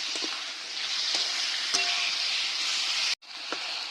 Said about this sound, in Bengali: চিকেনটা ভালো করে ভেজে নেব।